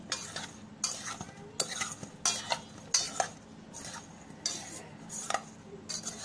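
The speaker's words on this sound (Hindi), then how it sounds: "थोड़ा सा हल्दी पाउडर मिक्स करें और नमक, और इसे अच्छी तरह से फेटे।" A spoon beats a mixture seasoned with turmeric powder and salt for dum aloo, giving a run of regular clinking, scraping strokes against a bowl, close and moderately quiet, with no talk.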